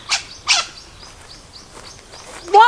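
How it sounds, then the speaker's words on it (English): A few short, bright bird chirps sound close by, two quick calls at the start and a trill at the end against a quiet background. "I'm talking to the birds! Why? There's no need for that noise."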